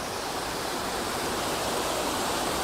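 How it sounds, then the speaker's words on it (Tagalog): Water from a waterfall rushes in a dense, loud, continuous roar, steady throughout and close, with no voices over it. "Lakas ng tubig."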